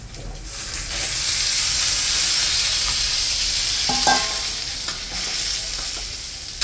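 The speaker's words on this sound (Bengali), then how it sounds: "এখন আলু আর এঁচড় একসাথে ভালো করে মশলার সাথে নেড়ে চেড়ে ঝোলের জন্য জল দিয়ে দিল।" Potato and jackfruit curry in spiced masala hissing and bubbling after water is poured in, a loud steady sizzle with a few clinks and scrapes of a stirring utensil against the pot.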